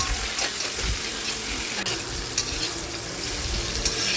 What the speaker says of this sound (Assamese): পনীৰবোৰ ভাজি লৈছোঁ।